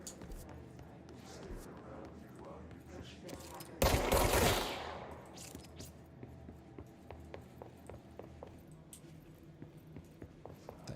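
A gun fires in the video game Control as one loud, roaring burst of shots lasting about a second, set among quieter scattered clicks and taps.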